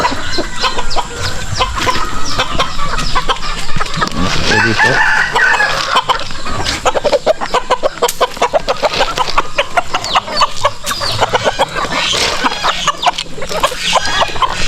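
Chickens cluck and squawk nearby in a busy flock, with a rooster crowing among them and a person saying a few brief words.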